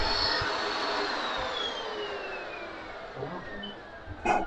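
A Vo.temm 4-in-1 vacuum cleaner straining indoors, its loud steady whine slowly dropping in pitch as the motor labours, ending with a brief clatter.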